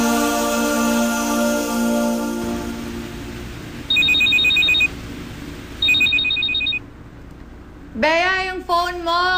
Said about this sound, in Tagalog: Yung phone mo! Nagre-ring.